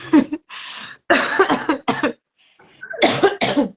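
A run of harsh, close coughs in quick bursts, breaking off briefly before a final cluster of coughing.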